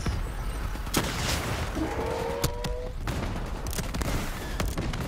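In the Call of Duty Black Ops III video game, sharp gunshots crack out irregularly, several distinct reports over a steady background rumble of combat.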